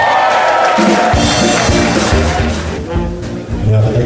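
Wedding guests at a reception at Taronga Zoo cheering, whooping and clapping for the flower girls, a loud, lively burst of crowd noise with scattered shouts and applause running throughout.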